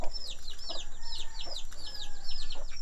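Leghorn chickens cluck in quick repeated bursts, close and steady, with chirpy bird calls layered over a constant background hum.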